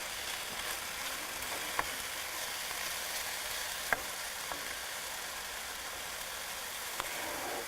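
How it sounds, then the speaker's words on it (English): Chicken stir-fried on a hot stove sizzles and crackles steadily at close range, with a few sharp clicks of stirring, and no voices. "when you stir fry, you want it at a high enough heat that you kind of have to keep stirring it"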